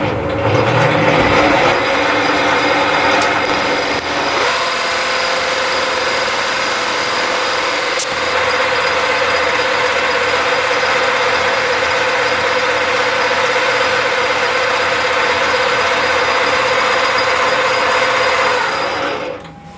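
A lathe motor turns steadily in reverse after facing and chamfering work, a continuous mechanical hum and whir with a brief clank, close and alone with no talk.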